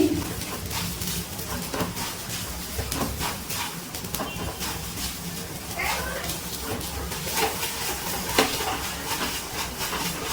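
Cabbage being stirred continuously in a pan over a medium gas flame, with steady scraping and clinking of a spatula against the metal, a light sizzle underneath and occasional louder knocks, close and fairly busy throughout.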